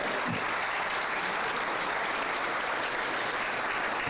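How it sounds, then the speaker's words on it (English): Audience at a Rotary Club of Lexington centennial celebration breaks into dense, sustained applause, a loud, even wash of clapping with no pauses. "give a nice round of applause"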